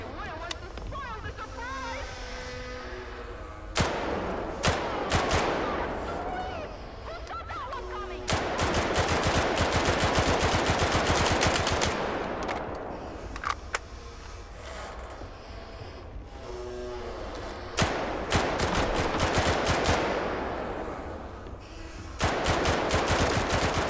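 Full-auto gunfire from STALKER 2, heard as loud sustained bursts broken by short gaps and mechanical clicks, with someone talking over the shooting.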